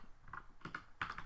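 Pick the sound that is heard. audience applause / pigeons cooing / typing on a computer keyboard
typing on a computer keyboard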